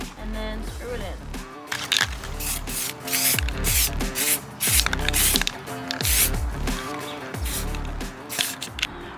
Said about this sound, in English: We're going to spray paint this piece black so that way it all looks cohesive